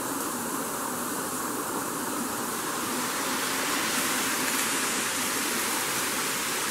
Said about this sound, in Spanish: Aquí vemos un nacimiento de agua, un arroyo pequeño, muy bonito, natural.